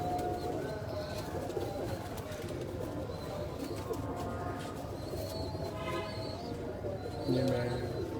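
In Lahore, pigeons give low, faint cooing calls beneath ongoing conversation and general outdoor noise, with occasional chirps and a brief flutter of movement.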